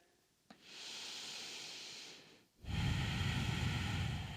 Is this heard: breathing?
yes